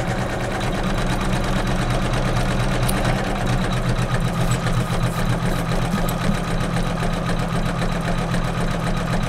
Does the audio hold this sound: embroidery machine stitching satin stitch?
yes